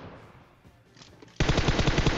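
Automatic gunfire in the mobile battle-royale game PUBG Mobile, starting after a quieter moment with a sudden loud rapid burst of shots that continues to the end.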